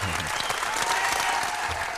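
Studio audience applause for a Grammy Award-winning producer and artist, a dense steady clapping that fills the whole short stretch, close and loud.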